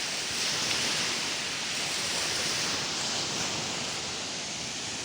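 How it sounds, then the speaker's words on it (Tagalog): Strong sea waves surge and crash continuously during rough weather with rain, a steady loud broadband roar that fills the whole stretch without letup, close and unbroken, with no voices. "biglang lumakas yung alon."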